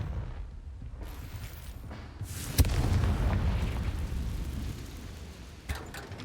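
A single Confringo explosion spell in Hogwarts Legacy goes off with a sudden loud boom, then a rumbling roar decays over a few seconds, and a smaller burst follows near the end.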